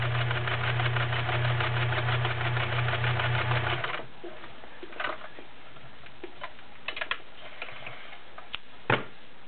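A vintage Kenmore model 1525 convertible sewing machine stitches through five layers of denim with a steady, rapid mechanical whir and ticking for about four seconds. Then it stops, and faint handling clicks and taps follow.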